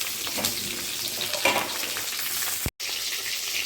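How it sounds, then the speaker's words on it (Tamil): Onions and green chillies sauté in a pan with a continuous close sizzle, broken by occasional stirring scrapes and a brief drop to near silence before the frying noise resumes. "வெங்காயம் நல்லா வதங்கட்டும்"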